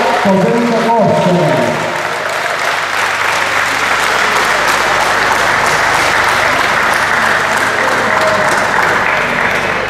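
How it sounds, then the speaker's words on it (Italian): Dense, steady audience applause fills a slalom race podium ceremony for a second-place driver of an electric car, with a voice over the clapping at the start. "Un grosso applauso per Emilia Covello, una lady al volante"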